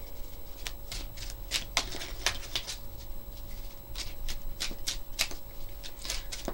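Arcana of Astrology tarot-style cards being shuffled by hand, a rapid run of crisp riffling snaps and slides repeating in bursts, close and quiet, with no talking.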